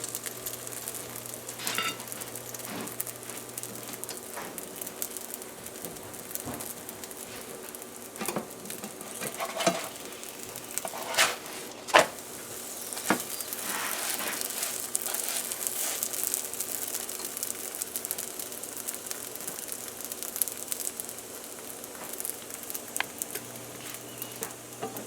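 A potato roti cooks in oil on a hot griddle, giving a quiet continuous sizzle with small crackles and occasional scraping or patting sounds, close and faint, with no voices.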